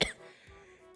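A single short, sharp cough bursts out close to the microphone, followed by faint quiet room sound.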